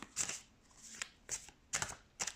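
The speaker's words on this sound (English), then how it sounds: "I will shuffle some tarot cards" Tarot cards being shuffled by hand in four or five quick papery bursts, each a soft riffling rush separated by short pauses, close and fairly quiet.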